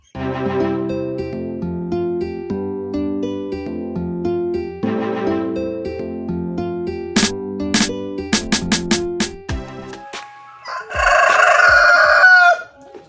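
Chickens and a rooster on a poultry farm: loud, close clucks and crowing calls over background music, ending with a burst of squawking noise.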